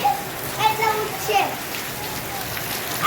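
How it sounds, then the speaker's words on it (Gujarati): Rain falling onto a village pond during an unseasonal shower, a soft continuous patter and hiss. Voices, including a child's, talk and call over it. "વરસાદ ચાલી રહ્યો તળાવમાં."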